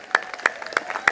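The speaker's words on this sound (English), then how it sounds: "Let us clap for all these 2" A handful of sharp, separate claps ring out at a Lions Club District 318D awards gathering, spaced unevenly in a brief, thin burst of applause.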